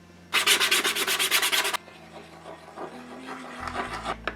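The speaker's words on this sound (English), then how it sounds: "I'll sand it back down to primer and reapply the black base coat." Sandpaper rubbed over painted Mandalorian suit armor to take it back to primer, a close, loud run of about a dozen quick rhythmic strokes lasting just over a second, then quiet handling noise.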